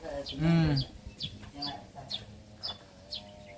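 A chicken clucks loudly near the start, followed by softer scattered chirps and clucks, with people talking in the background.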